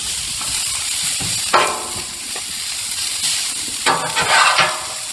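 Asparagus, bacon and onions sizzle steadily on a hot Blackstone griddle, a continuous loud frying hiss broken by a few scraping stirs of a spatula, with no voices.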